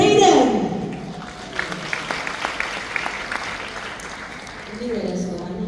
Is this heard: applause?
yes